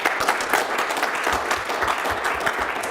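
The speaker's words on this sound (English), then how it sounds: "help me give Jack Ring a very large applause." Loud, sustained applause from a large audience, steady clapping filling the room without pause.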